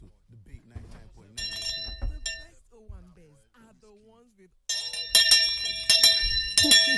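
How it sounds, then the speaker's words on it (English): Hand bell rung in a studio, bright metallic clangs in two short rings early on and then a longer run of rapid ringing at the end, with people talking between them. "Where is my bell?"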